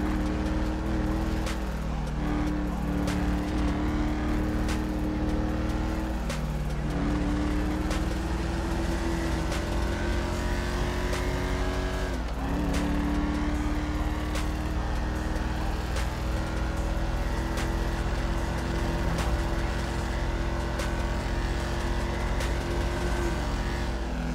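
Car engine in GTA 5 droning steadily throughout with shifting pitch, loud and continuous, as the car keeps driving along.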